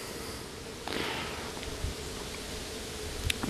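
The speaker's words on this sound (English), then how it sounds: "The bees are being nice to me." Honey bees buzzing around an open hive during a beekeeping inspection, a continuous close drone with individual bees zipping past the microphone, plus faint rustling.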